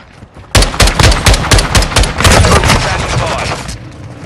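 Modern Warfare 2 gunfire bursts out close and loud: rapid, repeated sharp shots in a dense volley lasting about three seconds before tapering off, with an EBR-14 rifle in play.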